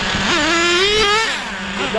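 An HPI Racing R40 nitro RC car with an OS 12tr engine whines loudly and steadily, its pitch rising and swelling through the middle, with a voice talking over it.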